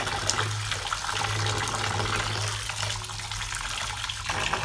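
Running water pours steadily from a tap over boiled thukpa noodles as they are rinsed, a continuous close splashing flow with no talk.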